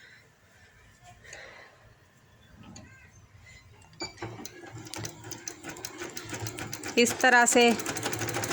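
A sewing machine stitches palazzo pants, its rapid mechanical whirring starting quietly and growing louder and busier toward the end, heard beneath someone speaking.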